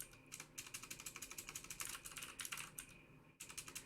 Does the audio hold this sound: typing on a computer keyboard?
yes